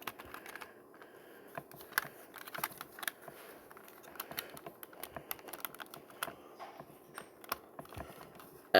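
Plastic parts of a Transformers Titans Return Leader Blaster toy click and snap as they are tabbed into place. Quiet, irregular close-up clicks and taps come in quick clusters with brief pauses.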